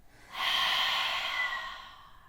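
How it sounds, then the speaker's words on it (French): A long, steady exhale through the mouth during a yoga relaxation pose, a soft airy breath that swells, holds for about a second and fades out, close and alone. "Expire par la bouche."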